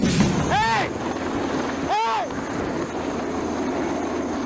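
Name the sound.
Chinese Navy helicopter hovering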